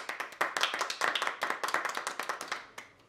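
Audience clapping in a scene from a Syrian comedy series, a brisk run of sharp, close hand claps in quick rhythm, fairly loud and sustained for the whole stretch before tapering off.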